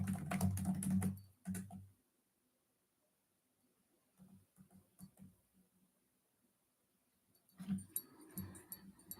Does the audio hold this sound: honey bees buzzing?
no